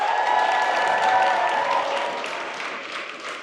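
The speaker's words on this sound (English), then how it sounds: "it just became cheer after cheer" Applause and cheering from a crowd at a national jigsaw puzzle competition, a sustained wash of clapping and voices that fades gradually over a few seconds, with no clear speech.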